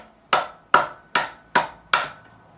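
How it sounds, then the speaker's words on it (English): A nylon-faced fretting hammer taps a guitar part out of an electric bass body: five sharp, evenly spaced knocks, close and clear, each with a quick woody decay and no talking. "I'm going to take my fretting hammer. I'm going to gently hit the far end with the nylon side."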